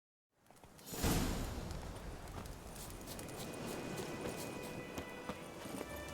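Horse galloping in The Witcher 3, a rapid patter of hooves with a swishing rush of movement that starts abruptly and continues steadily at moderate loudness, with no talk.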